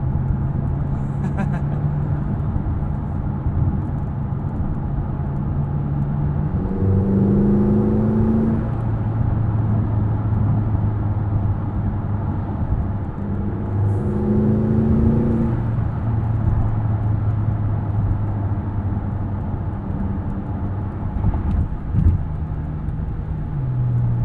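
A 2021 McLaren GT cruises in comfort mode with a steady low engine drone and road hum, shifting early below 2,000 rpm with a couple of gentle rises in pitch, under continuous talking.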